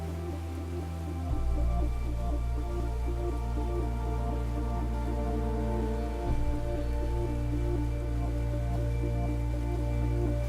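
Artificial rain falling in the Rain Room installation at MoMA, a dense steady hiss of water pouring onto the floor indoors, loud and continuous with a low hum underneath and no voices.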